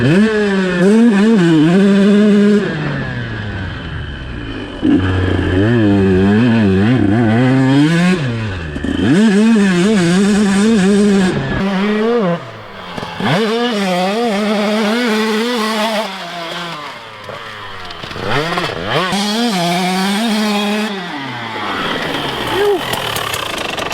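2021 KTM 150SX and 2021 KX125 two-stroke dirt bikes ridden, loud buzzing engines rising and falling through repeated revs and gear changes, close up, with brief dips between throttle runs.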